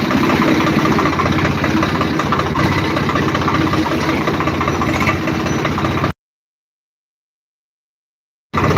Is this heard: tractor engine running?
yes